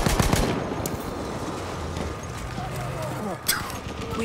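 Battlefield 1 combat with rapid bursts of gunfire and a few sharp reports, heard under loud shouting voices and general battle noise.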